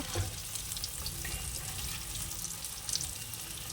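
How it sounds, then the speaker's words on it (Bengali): Food frying slowly in a pan on low heat to get crisp, a soft, steady hiss and gentle sizzle throughout, quiet and even with no talking. "সেই জন্য কমিয়ে রেখেই ভাজছি"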